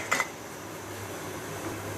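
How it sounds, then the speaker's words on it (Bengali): A metal lid lifted off a kadai cooking pan holding watermelon-rind and prawn paturi, one short clinking clatter at the start, then a low steady kitchen hum. "পাতুরি হয়ে গেছে, এবার ঢাকনা খুলে নেব।"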